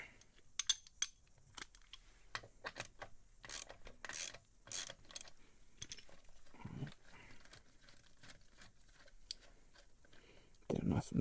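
A 12mm socket wrench works a muffler bolt on a Kawasaki Ninja motorcycle: a scattered run of short metallic clicks and ratcheting taps, close and fairly loud, with a few heavier clanks of tool against metal.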